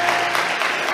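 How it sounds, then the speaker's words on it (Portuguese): A church congregation bursts into loud, dense applause in a brief, steady burst of many hands clapping at once. "Aplauda o Senhor pela vida deles."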